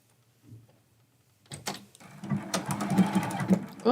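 Sewing machine stitching a quilt block seam, starting after a quiet pause with a brief rapid mechanical whir, fairly faint and close, with small clicks and handling noise.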